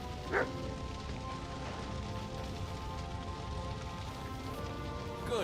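A dog in the medieval game Kingdom Come: Deliverance 2 gives a few short, moderately distant barks, one near the start and another near the end, over a steady bed of rain-like ambient noise.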